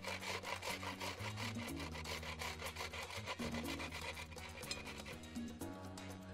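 Whole-wheat cookies being crushed into fine crumbs, a rhythmic gritty rubbing and grinding repeated in quick strokes, close and continuous, with a faint tonal background underneath.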